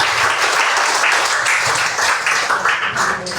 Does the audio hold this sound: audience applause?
yes